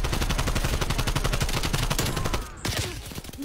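Rapid automatic gunfire from the video game Call of Duty Black Ops Cold War, a fast regular burst of shots that runs continuously, breaks off briefly, then resumes with a few more loud close shots.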